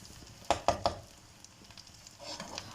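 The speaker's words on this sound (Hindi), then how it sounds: "अब इसको मैं हल्के हाथ से थोड़ा सा मिक्स कर लूँगी" A pot of homemade biryani with home spices gently mixed by hand, three quick scraping stirs close together and then a few softer rustles, near and quiet with no talking.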